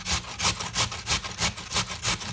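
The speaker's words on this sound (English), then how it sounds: "You're then going to grate it on the large holes of the grater." Peeled potato rasped over the large holes of a box grater in quick, even strokes, about four per second, each a close, rough scraping swish with a steady back-and-forth rhythm.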